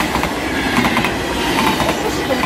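A train passes close by at a station in Roermond, Netherlands, a loud steady rolling rumble with rhythmic wheel clatter on the rails, running unbroken throughout.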